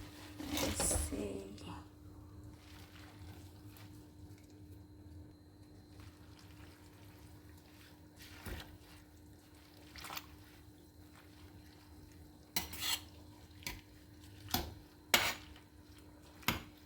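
Chana dal is tipped into water in a cooking pot with a brief splashy pour, followed by faint, quiet stirring and a few sharp metallic clinks of a utensil against the pot near the end.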